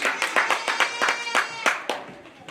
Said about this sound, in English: So let's give her a big round of applause for her summer project.